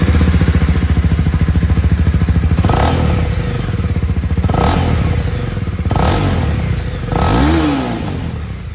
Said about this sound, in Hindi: अब यहाँ पर क्योंकि लिक्विड कूल इंजन मिल रहा है, आवाज़ तो डिफरेंट होनी चाहिए